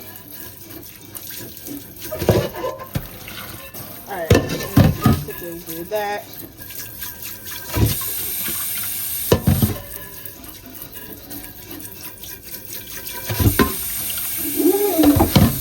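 A kitchen faucet runs and splashes into a sink in bursts while rusty kitchenware is rinsed, with dishes handled and someone speaking briefly over the water.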